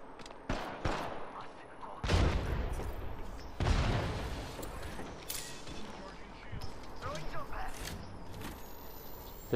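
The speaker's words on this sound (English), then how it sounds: "They're trying to shoot at us though, or they got somebody else?" Bursts of gunfire in the video game Apex Legends, a few sharp shots followed by heavier rattling volleys and mechanical clacks, mid-distance, with players talking over the action.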